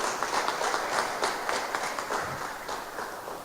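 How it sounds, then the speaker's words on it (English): Audience applause at a TNM Tikolore promotion launch, a moderately loud, even spatter of many hands clapping that slowly thins toward the end, with no speech over it. "Another round of applause, ladies and gentlemen."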